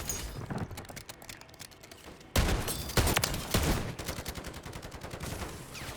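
Sentry gun in Modern Warfare 3 Zombies opening up with rapid automatic fire, starting abruptly after a quieter stretch and continuing in dense, loud bursts of close gunshots with no talking.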